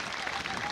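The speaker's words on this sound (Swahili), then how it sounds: "Pigia mama makofi." Crowd at a political meeting in Nyanza applauding, a brief dense wash of clapping at moderate volume.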